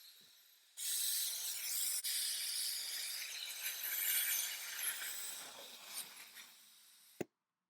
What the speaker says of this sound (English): Apparently still a bit of liquid left in there, and we'll allow it to vacuum it out.